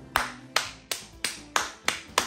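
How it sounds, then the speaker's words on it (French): Six sharp hand claps in an even rhythm, roughly one every third of a second, close and crisp with short room decay, no talk. "quand j'applaudis là"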